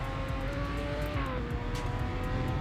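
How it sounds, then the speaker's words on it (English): Loud rear-wheel-drive car engine in a driving video game, a steady revving drone with shifting pitch throughout, no talk. "This is a pretty loud car."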